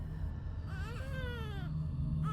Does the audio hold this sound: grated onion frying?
no